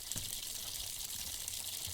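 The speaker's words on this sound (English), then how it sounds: "Running the water for 5 minutes" An outdoor faucet runs as its line is flushed, giving a steady, soft hiss of flowing water at close range, with no talk.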